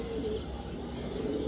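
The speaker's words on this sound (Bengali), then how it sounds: "এই একটা সিলভার কবুতর" A silver pigeon coos softly in a low, continuous murmur, with faint chirps from other birds nearby and no talking.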